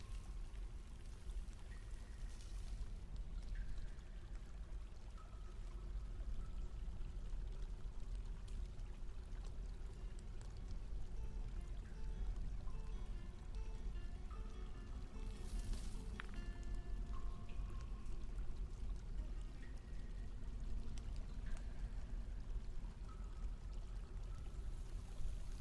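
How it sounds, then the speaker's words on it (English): Water draining away in the video game Dwarf Fortress, a steady pouring, rushing stream heard under soft game tones and chimes, continuous and moderately loud, with no talking. "as you can see, the water level is going down when we do this"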